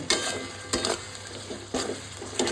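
A spoon scrapes through vegetarian potato curry with tomato, oil and a pinch of sugar in a hot pan, four or five distinct stirring strokes cutting across a soft, steady sizzle, close and fairly quiet.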